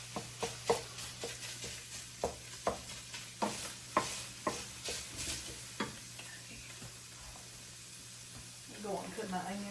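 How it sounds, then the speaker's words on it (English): Onions added to a frying pan of browned taco-spaghetti meat with very little grease, giving a steady close sizzle punctuated by a quick run of rhythmic spatula taps that thin out before a final scraping stir. "Go on and put my onions in."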